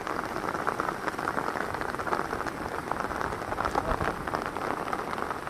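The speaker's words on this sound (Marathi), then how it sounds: "पाऊस काय थांबत नाही" Heavy monsoon rain in Konkan drums down constantly and densely on surfaces nearby, a loud, unbroken hiss with scattered heavier drops and no voices.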